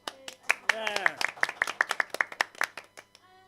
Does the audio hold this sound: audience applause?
yes